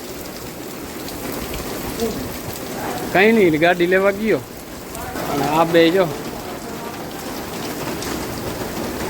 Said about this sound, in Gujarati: વરસાદ જો મિત્રો મસ્ત મજાનો ચાલુ થઈ ગયો છે